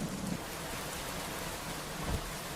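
Steady rain pours as a dense, even hiss, with a brief low rumble of thunder near the end, continuous and unbroken with no voices.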